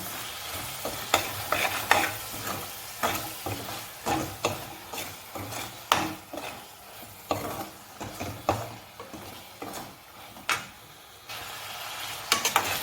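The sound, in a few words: stirring onions with ginger garlic paste in pan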